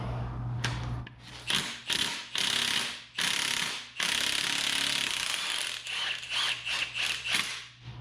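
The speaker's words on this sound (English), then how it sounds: "let me put my 3-jaw puller back together here" A 3-jaw puller working a part off the 327 engine of a 1964 Chevy Impala station wagon, heard as bursts of harsh, loud rattling impact hammering with short gaps between them.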